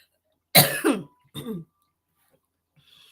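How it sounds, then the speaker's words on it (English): Two rough coughs in quick succession, close and fairly loud, followed by a brief quiet stretch with a faint rustle at the end. "I'm sorry about my cough."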